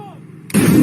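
A single sharp, loud gunshot bursts out midway during a Colombian army training exercise on an open field, following a moment of quiet low rumble and ringing on in a broad blast.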